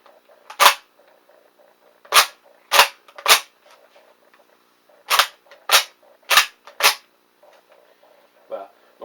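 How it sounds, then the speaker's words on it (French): The straight-pull bolt of a Steyr M1895 rifle in 8x50R is cycled repeatedly, producing sharp, loud metallic clacks in uneven pairs and groups, close by, with faint talk in the gaps. "c'est une des premières armes à culasse à mouvement linéaire, hein, que les Américains appellent straight pull"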